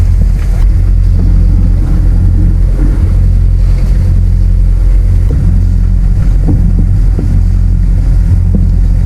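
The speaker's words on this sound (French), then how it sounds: "j'étais obligé de mettre le moteur avec un appui de la GV" A sailboat's engine drones at sea in calm, light air with the mainsail up, a steady low rumble mixed with buffeting wind against the microphone, loud and close, with no speech.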